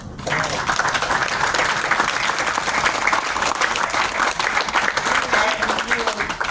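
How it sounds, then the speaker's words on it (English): An audience at an outdoor mural unveiling gives a sustained round of applause, dense steady clapping from many people, loud and continuous with voices mixed in. "I want everyone to give Public Service a round of applause"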